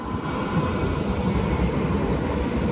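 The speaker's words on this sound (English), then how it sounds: "we're gonna wait for the Straßenbahn to come by" A Straßenbahn tram rolling along a street in Frankfurt's Bahnhofsviertel, a steady close rumble and wheel noise filling the short moment without pause or voices.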